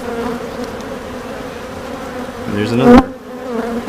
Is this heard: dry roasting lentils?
no